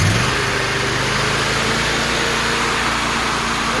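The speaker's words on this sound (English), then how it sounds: "Let me bring up the RPM." A Vermeer SC252 stump grinder engine runs close and loud, a steady, even drone with no one talking.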